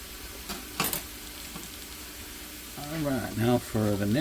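Chopped apples fry in a Lodge cast-iron skillet with a steady, soft sizzle and a few sharper crackles, and a voice talks over it toward the end.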